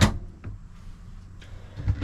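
Soft-close drawers in a 2024 Lance truck camper slide shut with muted thuds and light rolling sounds, a faint soft knock at the start and another near the end, quiet and close in a small interior.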